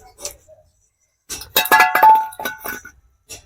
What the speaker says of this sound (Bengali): বাটিটা পড়ে যাচ্ছে।